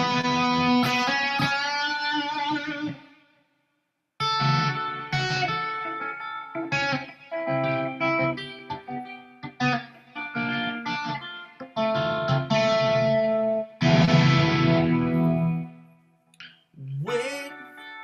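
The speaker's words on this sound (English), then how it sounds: "I just have delay and reverb on, distortion." Electric guitar played through delay, reverb and distortion, with sustained harmonically rich notes and chords in phrases separated by short silences, the tails ringing out under the effects.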